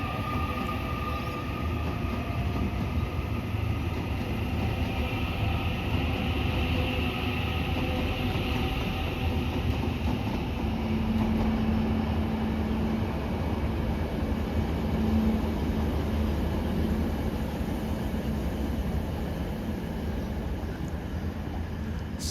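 A train rumbles steadily past through a station at close range, a continuous low roar of wheels and carriages with a faint brief squeal partway through.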